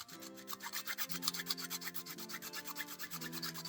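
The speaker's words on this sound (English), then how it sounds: "this requires some sanding on both sides" A plastic part for a tabletop model vehicle is sanded by hand in quick, regular back-and-forth strokes, close and rhythmic, with a steady rasping texture throughout.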